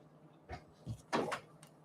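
An indoor door is opened on a chilly morning, giving a few quiet soft bumps and a brief rattling knock close by, with no talking.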